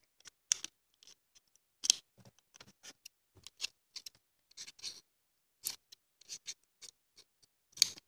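Scissors snip while a child's pony craft dress is being cut, giving a series of sharp, irregular clicks and short crisp cuts with quiet gaps between them, close and fairly faint.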